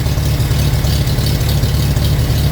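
A 1941 Farmall M tractor engine idles loudly and close with the clutch pushed in, a steady low rumbling chug with even firing pulses throughout, no voices.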